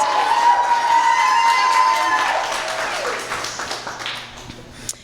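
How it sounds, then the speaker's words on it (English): Wedding guests cheer and applaud at a reception during the speeches, a loud burst of clapping and shouts that gradually tapers off over several seconds. "I got applause, yes."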